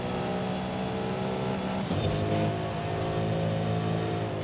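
A 2021 Mercedes-AMG GT Black Series with a 4-litre bi-turbo V8, driven in Forza Horizon 5, drones steadily at high revs, then briefly shifts pitch with a short burst before settling back into a constant engine tone.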